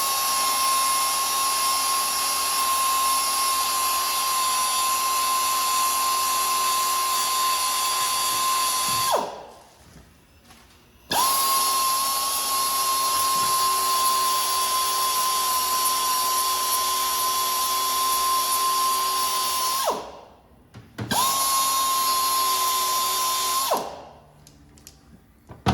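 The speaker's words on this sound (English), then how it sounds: "I just take the heads off these rivets right here." High-pitched power tool whining steadily as it grinds the heads off metal rivets on a shop truck, three long sustained runs separated by brief pauses, loud and close with no talk.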